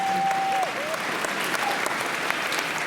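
Audience at an elementary school band concert applauding in a steady, dense wash for three seconds, with a brief whistle-like tone near the start and faint voices underneath.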